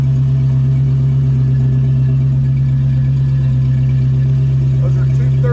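A 1967 Ford Mustang with a 302 V8 and automatic transmission runs steadily, a loud continuous low engine drone that holds even with only small rises through the clip.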